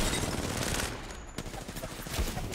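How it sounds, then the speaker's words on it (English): Rapid charge rifle gunfire in a video game, a dense continuous barrage of shots that dips briefly partway through and then resumes at full loudness, with no talking over it. "Look how hard he hit me with that charge rifle for him."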